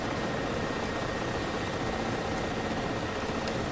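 A Ka-50 Black Shark helicopter from the DCS flight sim runs steadily, a dense, unbroken rotor and turbine roar filling the space at constant loudness, with no talk.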